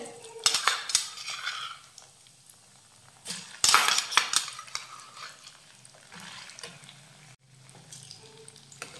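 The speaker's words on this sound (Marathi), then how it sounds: "आणि आता हे वाटण परतून घेऊयात." Spice paste (vaatan) being sautéed and stirred in a pan after mustard seeds and cumin for patvadi rassa, with a spoon scraping and clinking against the metal in irregular bursts over a faint sizzle.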